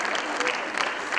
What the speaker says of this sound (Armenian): եկեք ծափահարենք մեր պարոսույցներին